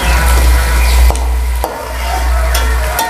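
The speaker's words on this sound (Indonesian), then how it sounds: "Bawang merah sama bawang putih ditumis dulu sampai harum." Shallots and garlic sautéing in a pan make a loud, continuous sizzle close up, broken by several sharp scrapes and clinks of a utensil stirring.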